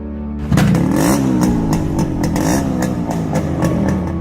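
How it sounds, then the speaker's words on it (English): A Yamaha RX 100 two-stroke motorcycle revs up loudly and close, its exhaust ringing with a rapid buzzy crackle and repeated throttle blips, with no voices over it. "The ring ding ding of exhaust."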